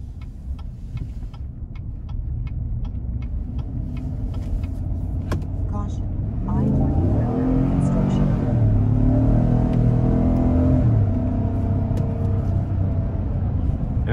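A 2020 Chevy Suburban Premier RST's 6.2-liter V8 rumbles at a steady low idle, then swells into a deeper, louder surge as it accelerates hard, the beefy engine note rising and holding near and full.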